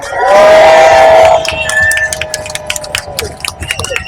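A crowd at a wildlife speech event bursts into loud cheering and screaming for young speakers, then it settles into scattered clapping and whoops.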